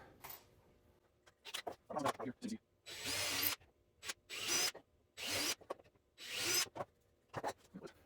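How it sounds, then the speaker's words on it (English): An electric drill whirs in four bursts of about half a second to a second each, with shorter clicks and handling noises between them. "just a regular drill"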